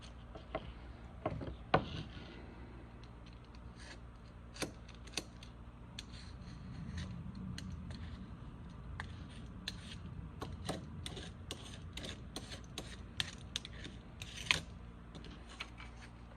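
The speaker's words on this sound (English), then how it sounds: "I like to use a box cutter for these." A box cutter slicing tangled hair off the brush roll of a Dirt Devil Power Express vacuum, faint close scratchy cuts and small clicks scattered irregularly over a quiet background, with no speech.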